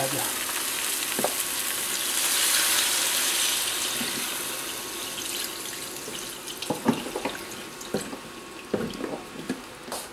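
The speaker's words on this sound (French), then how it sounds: "Je vais compléter avec un peu d'eau." Water poured into a simmering Provençal beef daube with marinade and tomato paste, a rushing splash over the sizzle at first, then fainter bubbling and scattered stirring knocks close by.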